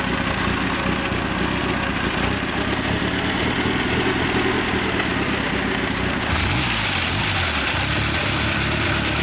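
A Cleveland motorcycle engine runs after a bump start, a loud close rumbling idle that shifts in tone partway through.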